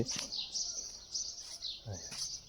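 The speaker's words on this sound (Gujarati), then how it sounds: "અને જો પક્ષીઓનો કલબલાટ તમને સંભળાતો હશે" Birds chirp and call in short bursts on a morning farm, fairly faint, with a brief low thud or voice-like sound mixed in.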